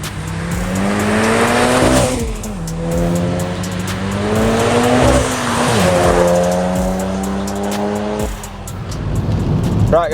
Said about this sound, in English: So let's get the car onto the road, drive it, get some data logs and just see what it's saying.